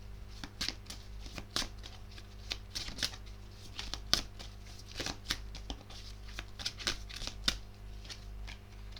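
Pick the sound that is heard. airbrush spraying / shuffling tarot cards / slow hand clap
shuffling tarot cards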